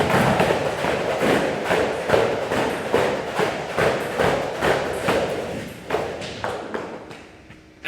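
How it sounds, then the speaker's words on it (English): Battle ropes slam the floor again and again during a workout, giving a quick, rhythmic run of heavy thuds about twice per second. The thuds are loud and close at first, then thin out and fade toward the end, with no talking. "We're going to throw them both up at the same time. Again, aim that you're trying to flick something off the end of the rope."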